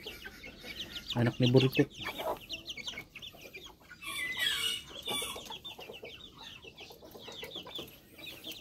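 Chickens clucking on a backyard Filipino farm, a burst of loud close clucks early then scattered softer clucks and bird calls, with people talking in between.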